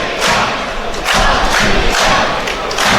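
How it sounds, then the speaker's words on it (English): A football crowd at a Latvia versus Wales Euro 2024 qualifier chants "Latvia" in a loud, rhythmic pattern, with three surging bursts of massed voices roughly a second apart filling the stadium. "Latvia is the rhythmic chant from the crowd"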